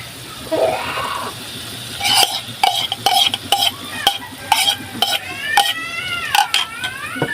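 Spatula stirring egg into bitter gourd in a hot pan, with repeated close metallic scrapes and clinks against the pan over a steady soft sizzle, in a steady rhythm throughout.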